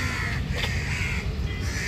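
A crow caws outdoors near a temple where snacks and water have been set out, its harsh calls rising over a steady low background rumble.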